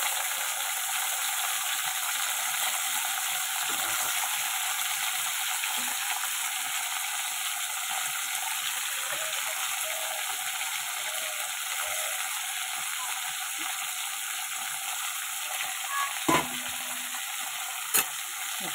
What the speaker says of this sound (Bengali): এটাকে এবার লাল লাল করে একটু ভেজে নেব